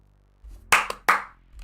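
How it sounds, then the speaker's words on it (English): Two sharp hand claps ring out close and loud, evenly spaced about a third of a second apart, in an otherwise quiet room. "You can just actually clap instead of saying clap, clap, clap out loud."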